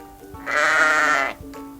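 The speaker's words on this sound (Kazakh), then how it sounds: "Қозы қандай дыбыс шығарады?" One clear, high-pitched lamb bleat, close and alone, lasting about a second.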